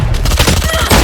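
Rapid gunfire from a gun in the Valorant video game, a loud, close burst of dense overlapping shots lasting about a second.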